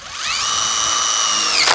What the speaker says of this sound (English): We're just gonna use a self-tapper here